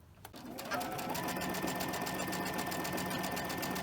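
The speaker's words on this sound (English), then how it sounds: "I'm going to start sewing just like as if I had started at the corner" A sewing machine stitching cotton fabric, starting after a short pause and then running at a steady, rapid, even hum that stays close and loud until the end.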